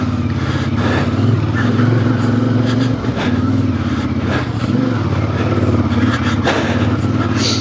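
Engine of a 2026 CF Moto IBEX 450 motorcycle ridden hard off road, a steady loud drone with small dips and surges in revs throughout.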